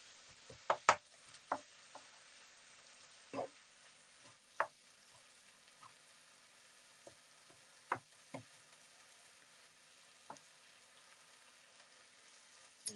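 Beef browning in a pan for Mexican quesadillas gives a faint steady sizzle, broken by scattered sharp pops and light taps from stirring, with no voices.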